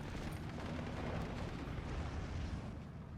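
A mortar shell exploding in the video game Steel Division 2 gives a steady, rumbling roar of battle noise that fills the whole stretch at moderate loudness, with no voices.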